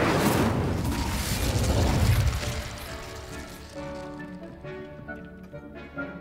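Incendio fire spell cast in Hogwarts Legacy: a loud whooshing burst of flame with a deep boom and crackle that fades into a ringing magical tail.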